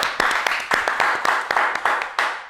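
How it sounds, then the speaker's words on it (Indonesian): A short burst of crowd clapping, many hands with sharp repeated claps at an uneven rhythm, fairly close and loud. "Tepuk tangan dulu dong buat Porprov."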